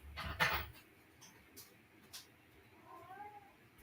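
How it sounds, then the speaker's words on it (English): A pet cat cries with a drawn-out meow at close range, then a softer wavering meow follows near the end, over low rumbling background noise on a rainy day. "my cat's crying now"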